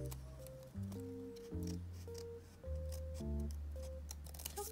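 Scissors snip through origami paper while folding a paper shrimp, a few short crisp cuts sounding under steady background music.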